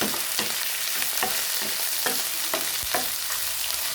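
Boiled chicken tossed into a hot pan of sautéed onion and garlic, giving a steady sizzle broken by regular clattering stirs of a spatula, close and fairly loud, with no talking.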